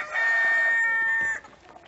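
A rooster in a rainy henhouse kept with Marans, Valdarno and white Livorno chickens lets out a single loud, close crow, about a second long, before it fades into quiet background sounds.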